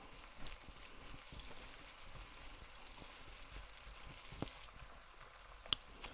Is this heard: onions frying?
yes